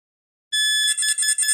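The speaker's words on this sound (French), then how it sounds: "normalement, il y a la fonction alarme dessus" The anti-theft alarm on a fishing rod bite alarm starts abruptly after silence, a loud, high electronic tone that soon breaks into rapid pulsing beeps, close and alone.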